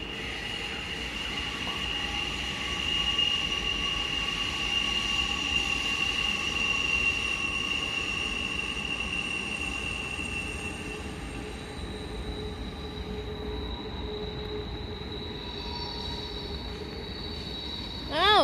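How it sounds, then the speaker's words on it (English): A train rolls past at a distance with a continuous low rumble, while high metallic wheel squeals ring out over it for long stretches. "We got two trains."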